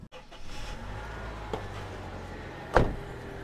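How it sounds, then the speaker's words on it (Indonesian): A 2005 Toyota Kijang Innova petrol 2000 cc engine turns over and settles into a steady, low humming idle, with a couple of brief clunks along the way. "ini adalah suara mesin 2000 cc"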